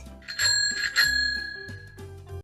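A bicycle bell rings twice in quick bright dings, heard close over light background music.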